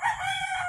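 A rooster lets out a short, loud, bright crow close by, heard alone with no talking.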